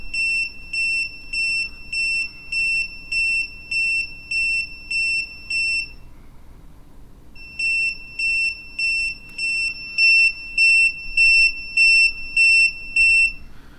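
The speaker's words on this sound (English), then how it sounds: "Now we should get some longer beeps." An electronic altimeter, an Eggtimer Apogee Rev D9 model rocket board, sounds a steady run of short, sharp high beeps, pauses about a second, then repeats the evenly spaced beep series, loud and close with no talking.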